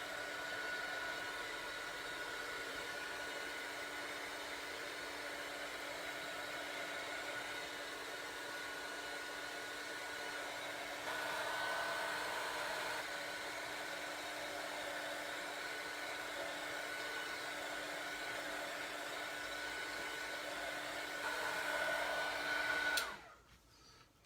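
Hair dryer blowing steadily on stamped ink, a constant close whirring hiss with slight shifts in tone, holding for over twenty seconds before cutting off abruptly.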